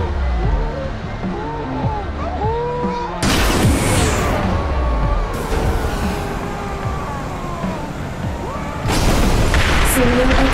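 Several heavy booms and bursts go off in quick succession in the video game ScreamRide, demolition mode, loud and close, over a busy layer of game music and effects.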